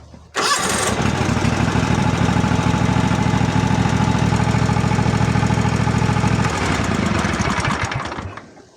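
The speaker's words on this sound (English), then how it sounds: "Then we'll start the engine and idle it for a few minutes just to warm up the oil." A Kawasaki FH-series riding mower engine cranks, catches and settles into a loud, even idle, holding steady near the microphone for several seconds before the sound tapers off.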